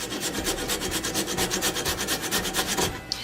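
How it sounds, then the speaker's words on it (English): Whole nutmeg scraped across a microplane grater, a steady run of about a dozen quick rasping strokes, close and crisp, with no talking. "That's 12 swipes with a microplane grater."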